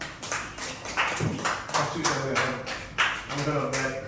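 A small group applauds Kitman at an HR session with loose, uneven clapping, while voices talk over it.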